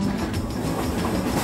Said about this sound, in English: The train jolts slowly, and now it's downhill.